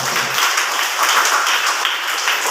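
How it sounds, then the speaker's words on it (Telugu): A church congregation applauding, a thick, sustained wash of many hands clapping at once, loud and continuous throughout with no speech over it. "కొట్టాలి చప్పట్లో."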